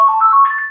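A phone ringtone plays close and loud, a short steady electronic tone lasting under a second.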